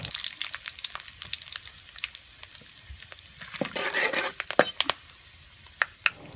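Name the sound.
frying garam masala and bay leaves in hot oil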